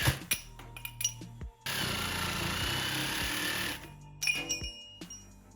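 Power tool chopping through old bent scooter handlebar tubing: a few clanks and knocks, then a loud, steady high-pitched cutting whine for about two seconds, followed by more metallic clinks and handling, close up with no talk.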